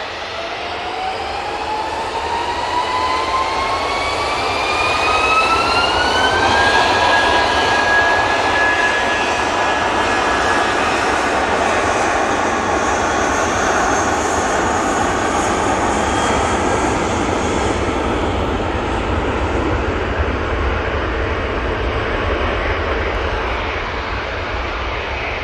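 Airbus A320-200 jet engines spool up at Manchester Airport, a loud, steady roar with a rising whine that climbs over the first several seconds, then holds as a sustained broadband rush.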